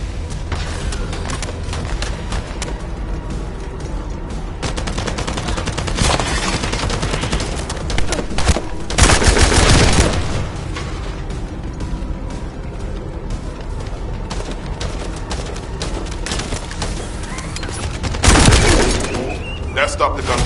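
Video game gunfire in The First Descendant, with sustained bursts of shooting and loud impact blasts spaced through a long stretch of combat, mixed with game sounds and speech.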